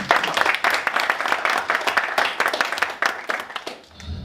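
Audience at a book launch presentation claps in a lively, fairly close burst of applause with distinct individual hand claps. The clapping runs steadily for about four seconds before tapering off.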